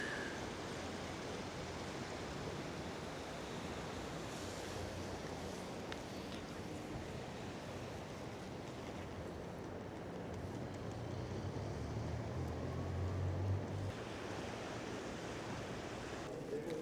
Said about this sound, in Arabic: بس انتوا شوفوا المي هين شلون هايج